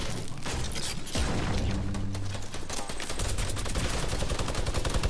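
Dense, continuous rapid gunfire from shooting in a video game, loud and sustained throughout with overlapping bursts and mechanical clatter.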